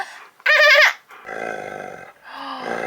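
A dog lets out a short, loud woof, then gives several lower grumbling, growly vocal sounds close to the microphone, with brief pauses between them.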